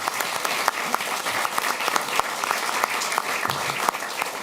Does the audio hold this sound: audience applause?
yes